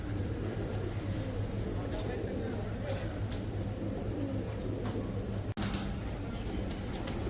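Pigeons coo softly at a temple in Manama, Bahrain, their calls sitting low within steady outdoor ambience and a faint murmur of voices.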